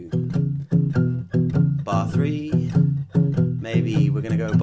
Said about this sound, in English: when they learn a 12-bar blues shuffle, the first three bars sound like this